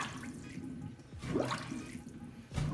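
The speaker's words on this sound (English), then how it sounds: "I mean the water is going down as you can see." Water gurgles and drips as it drains down a freshly unclogged kitchen sink, quiet trickling with a couple of louder bubbling glugs, close up and without talk.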